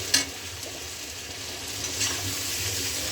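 Brinjal frying in a pan makes a steady close sizzle throughout, with a sharp clatter near the start and faint stirring scrapes.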